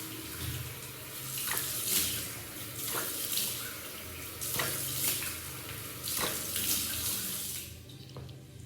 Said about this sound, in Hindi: अब फेस वॉश कर लो जल्दी से